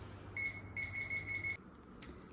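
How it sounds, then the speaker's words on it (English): A kitchen timer in a home kitchen beeps in a quick run of short, clear, high electronic tones, close and fairly quiet over a low steady hum, with no talk. "And set our timer."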